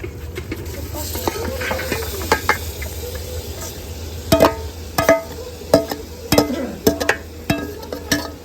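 Dal poured into browned spices in a cooking pot, sizzling and hissing steadily while a spoon scrapes and clatters through it in a run of sharp, close stirring knocks.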